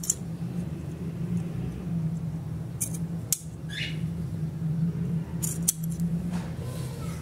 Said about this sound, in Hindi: इसको इधर से बराबर करके और भी काट दूँगा।